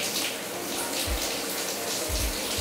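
Water from a shower streaming steadily in a broad, hissing wash, continuous and fairly loud with a few soft low thumps beneath it.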